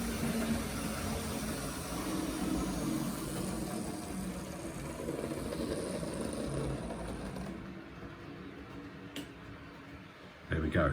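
A Lima or Roco model train with an SNCF locomotive runs on track at a toy fair, making a steady mechanical rumble and ticking that fades slightly as it passes, under background crowd chatter.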